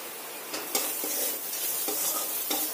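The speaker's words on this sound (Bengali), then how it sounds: "আরো ভালো করে খুব সুন্দর করে কষিয়ে দিতে হবে।" Ground cumin, Kashmiri chili and turmeric sizzle in hot oil for Bengali dal, a continuous close frying hiss broken by scraping stirs of a spatula against the pan every half second or so.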